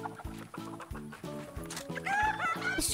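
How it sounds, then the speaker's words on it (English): A pet chicken in a video game clucks in a steady series of short, rhythmic calls, close and moderately loud, while higher game sounds and tones come in toward the end. "do you want my pet chicken?"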